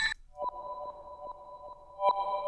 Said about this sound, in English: It's just your synth, barely in the background.